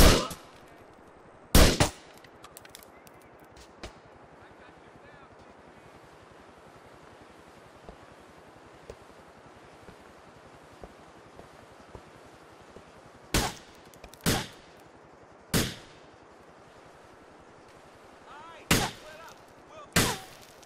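Gunfire in GTA IV, isolated sharp shots and short bursts spread across a quiet stretch, loud and punchy, with a low steady background hum between them.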